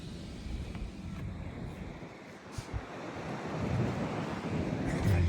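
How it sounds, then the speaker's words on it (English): Strong wind blowing outdoors in open fields, buffeting the microphone as a continuous low roar that swells louder toward the end, with no voices heard. "That wind's kicking."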